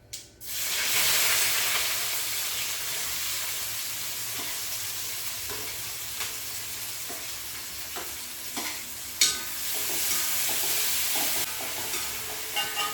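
Steady, loud sizzling of small shallots frying in hot oil after mustard seeds have popped, with occasional crackles and pops and a stir or two, and no voices.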